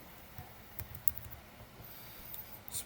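Quiet typing on a computer keyboard entering a web address in a browser, a short run of soft, uneven key clicks at close range with no talking.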